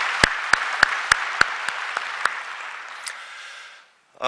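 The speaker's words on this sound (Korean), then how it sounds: "우리 뜨거운 박수로 환영하겠습니다" A church congregation claps in welcome during a Sunday service, a few loud distinct claps over a softer patter that thins and fades out near the end.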